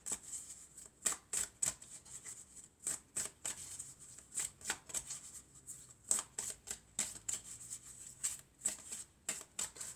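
Tarot cards are shuffled and drawn close by in a quiet room, a run of quick papery riffles and slaps in irregular bursts with short pauses between them.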